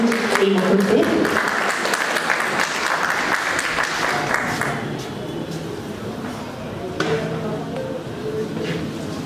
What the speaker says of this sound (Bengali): এবার জোরে করতালি দিয়ে সাক্ষী থাকবেন এই মুহূর্তে।